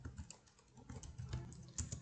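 Computer keyboard keys typed in quick irregular bursts, close and fairly quiet, with no voices over it.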